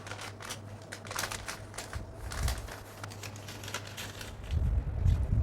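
Scissors cut through corset fabric along a neckline, giving a run of crisp snipping and rustling strokes, close and fairly quiet, with a louder crunchy burst near the end and no talk.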